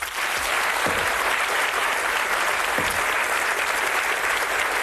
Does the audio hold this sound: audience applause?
yes